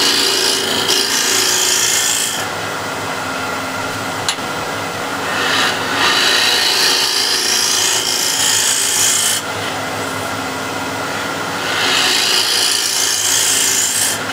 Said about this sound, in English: now I'll use the shear scraper.